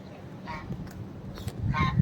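White domestic geese feeding and bathing at a seaside spot in Mandarmani give a few nasal honks, moderately close and growing louder toward the end, over a steady outdoor murmur with no speech.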